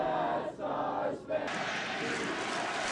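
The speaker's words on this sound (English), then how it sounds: "the crowds chanted USA and others sang the national anthem" A stadium crowd at a Phillies baseball game chants USA, a loud, dense wall of many voices that swells and dips in rhythmic waves before settling into a steady roar.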